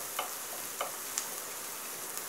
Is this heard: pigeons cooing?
no